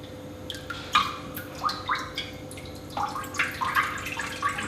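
Homebrew beer drains through a sanitized hose into a bucket, a close run of gurgles, trickles and bubbly splashes in irregular bursts over a low steady hum.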